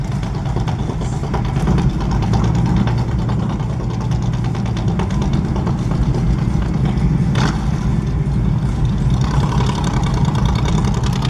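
Several motorcycles idle together at a tribute ride gathering, a dense, continuous low engine rumble that stays loud and steady throughout with no clear speech.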